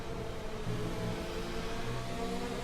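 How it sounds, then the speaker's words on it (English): A race car engine in a racing video game, held at lowered revs behind the safety car, drones steadily at a constant pitch with no gear shifts for the whole stretch. "But this isn't me shifting, the gear revs are just lowered"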